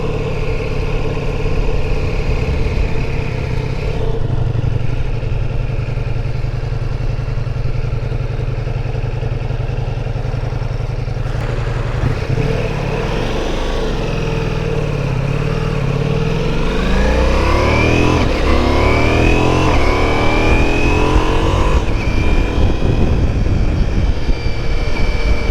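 A Ducati Multistrada V4 S engine hums steadily as the bike rolls slowly around a parking lot, smooth yet sounding as if only two cylinders fire, with the pitch climbing and sweeping as the throttle opens, loud and close.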